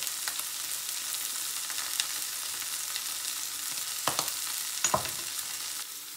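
Broccoli seasoned with salt, pepper and garlic fries in a pan, some pieces starting to char, producing a quiet, steady sizzle with a few sharper pops and stirring clicks near the end, with no voices.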